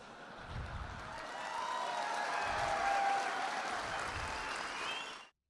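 Audience applause at a police gathering, dense sustained clapping from a large crowd that swells, holds for several seconds, then cuts off abruptly.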